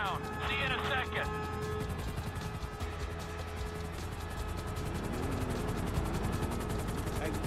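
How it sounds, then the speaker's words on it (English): A helicopter arrives during a heist in the video game GTA 5, its steady rotor and engine drone running loud throughout, mixed with other game sounds and voices talking over it. "Helicopter inbound. See you in a second."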